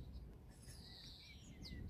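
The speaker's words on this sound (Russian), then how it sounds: "И птички так интересно сразу поют," Birds chirp and sing in a garden in Germany just before rain, thin high calls and short tweets standing over a faint, steady outdoor background.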